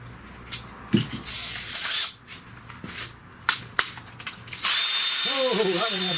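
Ratchet wrench with a 13 mm socket working a bolt on a 2008 Pontiac Torrent 3.4L engine during head gasket work, giving bursts of close, sharp clicking pawl strokes with pauses between.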